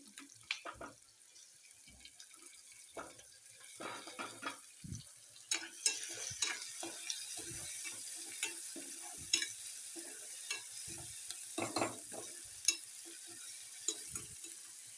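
Tomatoes tipped into a hot pan while cooking a peas and cauliflower curry, sizzling and frying with repeated scraping stirs of a spoon, close and fairly quiet, without talk.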